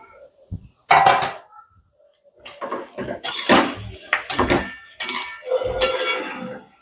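A spoon clanks and scrapes against a pan as macaroni pasta and vegetables are sautéed, with a series of sharp, close metallic knocks separated by short quiet gaps.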